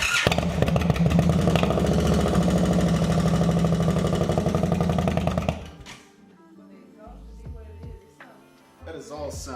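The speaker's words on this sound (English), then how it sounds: "I said that exhaust sounds pretty goddamn good" An Indian Chief motorcycle engine runs loud and rapid through its exhaust, a steady pulsing roar for about five seconds before it cuts off, leaving scattered quieter clanks and handling noises.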